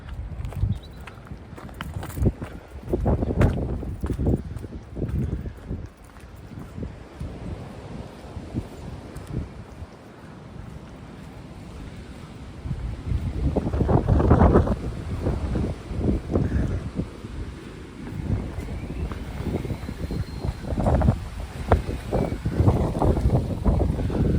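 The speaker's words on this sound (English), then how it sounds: "Still very windy." Strong wind buffets the microphone in rough, booming gusts that rise and fall continuously, loudest in the second half.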